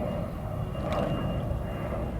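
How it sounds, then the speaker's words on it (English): An airplane passes overhead above a garden as a steady, broad, continuous engine roar that fills the whole clip at moderate loudness, with no talking. "I'm just going to wait for this plane above to go away."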